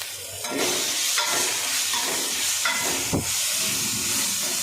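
Ginger garlic paste is stirred and fried in a pan for Tamil Nadu style pepper chicken, giving a steady close sizzle and hiss with occasional spoon scrapes against the pan.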